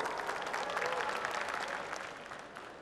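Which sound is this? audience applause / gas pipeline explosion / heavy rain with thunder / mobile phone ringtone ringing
audience applause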